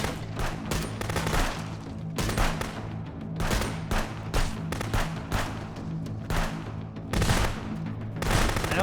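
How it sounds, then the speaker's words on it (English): Rapid bursts of gunfire during a shootout in the video game Wizard with a Gun, dense overlapping shots and booms in clustered volleys, loud and continuous. "I wasn't prepared for a shootout like that anyway"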